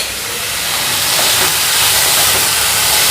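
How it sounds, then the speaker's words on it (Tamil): Drained banana flower drops into a hot pan of softened onions, dried red chillies and curry leaves, giving a loud, dense, steady hiss of sizzling that swells slightly and carries on with no talking. "இப்போ நம்ம வடிகட்டி வச்சுருக்கிற வாழைப்பூவை போட்டுடலாம்."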